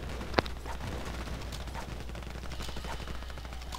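Gunfire in a first-person shooter with a shotgun and PDW in play, one sharp near shot early on, then scattered softer distant shots over a constant rumbling game background.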